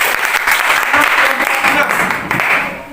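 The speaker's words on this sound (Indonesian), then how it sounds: "Baik, kita aplaus untuk kelompok 4." Classroom applause for a student group, a dense steady clapping from many hands filling the room throughout, with a few voices mixed in.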